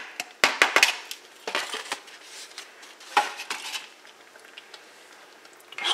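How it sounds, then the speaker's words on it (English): Chopped onion scraped off a board into a pot for curry chicken, with sharp clinks and knocks of utensil against cookware in quick bursts, then softer scraping and a few scattered taps. "Scrape that whole thing off in there."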